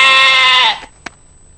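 A cartoon character imitates a sheep's bleat, one short wavering nasal cry lasting under a second before cutting off, followed by a faint click in near silence.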